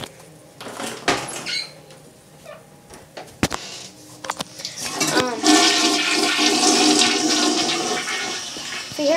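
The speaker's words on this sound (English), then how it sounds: "if you heard that flush" A household toilet flushes in a nearby bathroom. A few soft clicks and knocks lead into a loud, steady rushing of water that fills the second half of the clip and does not stop.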